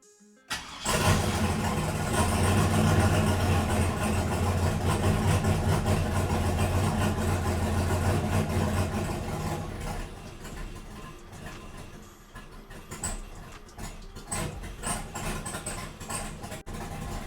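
A Chevrolet Silverado turbo truck with a new MAP sensor cranks and catches, then settles into a loud, close, rough and unsteady idle that sounds like it is struggling.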